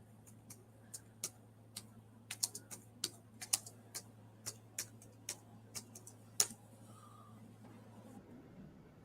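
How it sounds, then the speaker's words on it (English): Someone types on a computer keyboard, producing sharp, irregular clicks and taps in quick bursts with short pauses. A steady low electrical hum runs underneath, and no one speaks. "My keyboard's messing up and everything."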